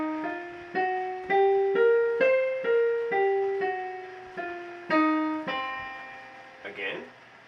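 A blues scale in C played note by note on a pitched harmonic instrument, about ten clear separate notes rising and then falling in a steady rhythm, each decaying, with a faint noisy tail at the end.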